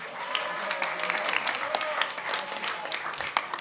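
Applause from a concert audience of a Jewish community, a dense steady patter of many hands clapping throughout, with voices mixed in.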